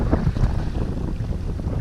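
Gusty wind buffets the microphone in a steady low roar aboard a small motor boat, with faint water and boat noise underneath.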